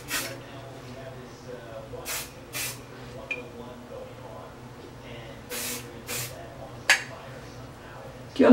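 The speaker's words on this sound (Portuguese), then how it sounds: "Então eu coloco bastante spray pra ficar bem fixo." Hairspray is applied to hair to set a messy bun updo, with several short, close hissing bursts, two around the start and a pair later, over a quiet room background.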